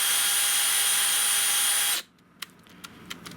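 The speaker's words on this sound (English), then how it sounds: "I'm putting my drill on high speed" A power drill spins at high speed to buff loose fibers on a part of a restored 1923 GE 16-inch AOU loop-handle fan, a loud steady whine that cuts off abruptly after two seconds, followed by a few faint clicks and handling noises.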